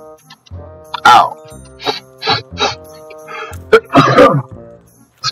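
A man acts out how he sneezes, producing a few loud, close, bursty vocal blasts and throat noises, with quieter sounds between them.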